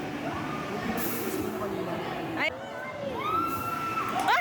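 Riders on the Happy Swing amusement park ride at SM Dasma let out high-pitched shrieks and screams, several overlapping voices rising and falling, loud and close, with crowd noise underneath.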